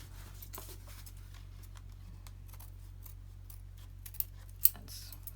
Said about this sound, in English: And I will cut it off from the top.